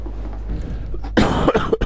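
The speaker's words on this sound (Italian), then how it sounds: "Scusate sempre per la tosse" A man coughs close to the microphone, a short burst of harsh coughs near the end after a quiet stretch.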